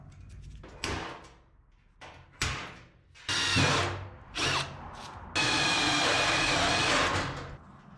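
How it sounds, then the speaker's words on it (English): A handheld power drill bores holes through sheet metal for a shop handle, several short whining bursts and one longer steady run, loud and close with clunks of handling between. "we're going to drill our holes for our handle"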